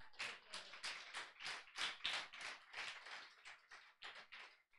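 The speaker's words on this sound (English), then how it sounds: "Let's give Jesus a clap offering." A congregation at a Sunday church service claps together in a quick, steady rhythm for Jesus, loud, close, and sustained, with no talk over it.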